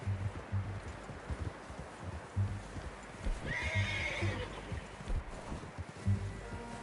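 A horse in the Red Dead Redemption video game clip-clops at a walk in an uneven rhythm over soft ground, with a clear whinny partway through. The sound is close, with faint rustling around it.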